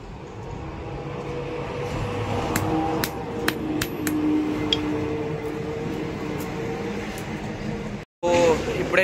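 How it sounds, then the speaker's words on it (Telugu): A big hammer strikes a motorbike part during repair work, fitting the clip joint after a cut. Several sharp metallic blows ring out in the middle of the clip, over steady workshop background noise. "పెద్ద సుత్తి తెచ్చాడు భయ్యా, చూపిస్తాగండి"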